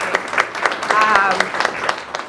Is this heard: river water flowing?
no